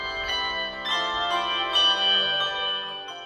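A handbell choir rings a steady run of overlapping bell strikes, bright sustained tones layering and decaying continuously for a few seconds with no voices.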